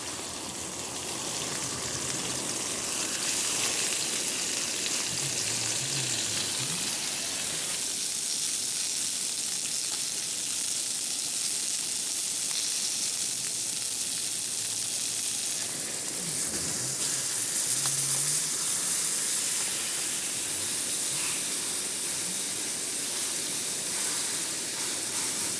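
Steady, loud sizzling and hissing of seasoned chicken breasts frying in a hot pan, continuous throughout with faint crackles and no voices.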